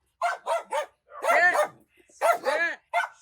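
A friendly dog barks close by in short bursts: three quick yips, a longer drawn-out bark, then a few more sharp barks, with a brief pause between groups.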